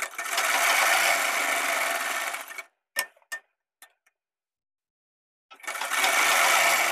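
An electric sewing machine stitching palazzo pants, running at a steady fast hum for about two and a half seconds, then a few single clicks and a silent pause before it starts stitching again.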